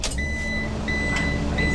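Engine of a Ram Promaster van cranking and catching on a cold start on a very cold day, a short steady mechanical rumble close by, with faint electronic beeps from the dashboard.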